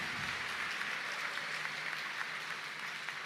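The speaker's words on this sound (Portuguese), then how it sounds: "Abraão merece uma salva de palmas, não merece não?" Congregation applause during a Portuguese-language Mass homily on the Second Sunday of Lent, a dense, even wash of many hands clapping that holds steady from start to finish in a reverberant church space.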